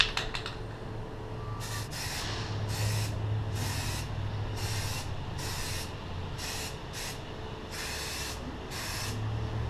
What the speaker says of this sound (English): I'm going to apply my second base coat.